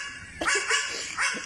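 A dog gives a few quick, faint barks, spaced out in a short burst at a moderate distance, with nothing else heard around them.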